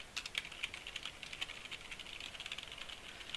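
Code typed on a computer keyboard, quick light key clicks in an uneven rapid stream, faint and close with no voices.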